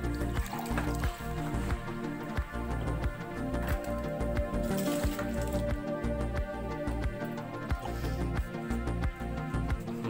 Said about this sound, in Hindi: अब हम इसमें ठंडा पानी जो है 2 कप और ऐड करते हैं।